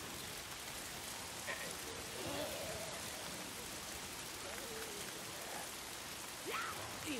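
Rain falls steadily in the video game Days Gone, an even, faint patter over a wide hiss with a few soft drip-like accents throughout.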